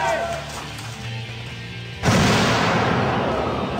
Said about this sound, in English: There was a big explosion